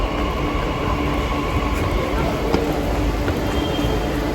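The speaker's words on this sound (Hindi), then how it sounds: "और ये हमारी मेट्रो आ गई है," A last-night metro train pulls into a station in Cyber City, Gurgaon, a steady loud rumble of wheels and platform ambience with faint voices in the background.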